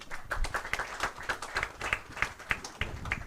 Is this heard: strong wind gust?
no